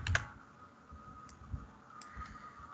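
A computer keyboard being typed on during CAD work, a few faint, sparse key clicks spread over a couple of seconds in a quiet room, with no talk.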